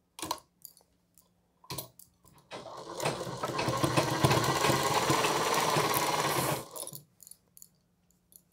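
An electric sewing machine stitches folded blouse fabric for a half-collar blouse, running in one steady whirring burst of about four seconds, framed by quieter clicks and handling sounds before and after.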